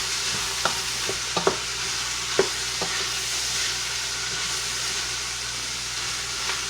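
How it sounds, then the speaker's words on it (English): A wooden spoon stirs onions through oil and butter in a pan over a steady sizzle, with several distinct scraping knocks near the start and no talking. "I just want to stir the onions around to get all of that oil and butter kind of mixed in"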